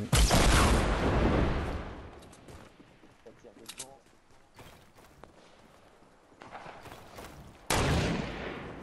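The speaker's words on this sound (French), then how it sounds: "Ouh, ça tire des roquettes là" Rocket fire in Fortnite: loud broadband bursts open the stretch and return near the end, with sharp impacts and crackling between, and a voice talking over it.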